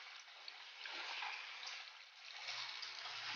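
Calamansi juice mixed with water is poured into a pan while cooking fish, a soft, steady liquid splash and trickle that swells slightly and is faint throughout, with no talk over it.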